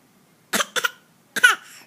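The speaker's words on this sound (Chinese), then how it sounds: "咳嗽快点" A young child gives a few short coughs on request indoors: two quick bursts followed by a longer, rougher one after a brief pause, close and fairly loud.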